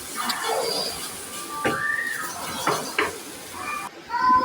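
Spices being stirred and sautéed in a pan, with a steady sizzle and scraping strokes from a spoon, a few sharper clinks against the pan, and some faint background voices.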